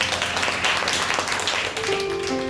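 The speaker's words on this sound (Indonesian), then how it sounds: "Tepuk tangan buat Tuhan." Church congregation clapping together during a worship service, a steady dense patter of many hands with sustained music tones running underneath.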